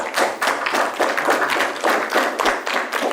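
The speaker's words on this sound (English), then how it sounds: "Round of applause." Audience applause after a talk on 5G, surveillance and health risks in Silicon Valley: dense, steady clapping from a small-to-medium crowd, close and fairly loud, with individual claps faintly audible throughout.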